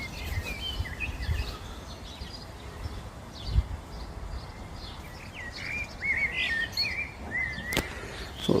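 Young water birds in spring call from a waterside setting, with high chirps and short trilling calls scattered throughout over steady low outdoor rumble.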